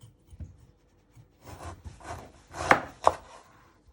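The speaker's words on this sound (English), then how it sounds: "You first chop the ends off your end of your swede" A knife chops the ends off a swede for Scouse stew, with a few quiet taps, then scraping strokes and two sharp cuts against the board, close by.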